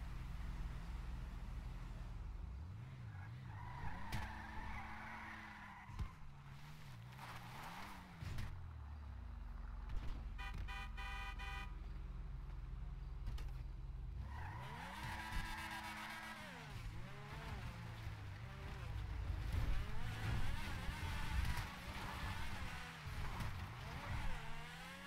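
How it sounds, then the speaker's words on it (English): Car engines in Grand Theft Auto V, revving and shifting through rising and falling pitch sweeps with occasional tire squeal, loud and continuous over the whole stretch with no talk. "Your car is making strange sounds."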